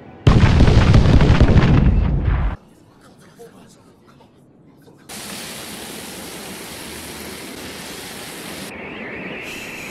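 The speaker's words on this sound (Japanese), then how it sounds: "爆発だ。" A huge explosion of explosive clay in a Naruto anime fight roars loud and broadband for over two seconds, drops into a quiet rumble, then swells into a sustained hissing blast of debris and sand.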